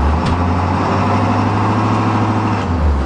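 A 7.3 diesel school bus engine revs steadily with a deep, loud rumble, straining to get the stuck bus free in cold February conditions. No one speaks.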